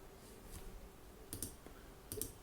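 A computer mouse clicks quietly while working in After Effects, with a few faint, crisp clicks arriving in short pairs against near silence.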